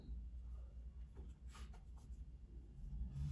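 A pen marks fabric for a small multipurpose sewn pouch, giving faint, intermittent scratchy strokes over a low steady background hum, close and quiet with no talking.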